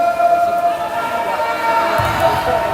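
Water polo fans chanting for Brescia in the stands at a Trieste versus Brescia under-18 match, a sustained crowd chant and cheering heard at a distance through the pool hall.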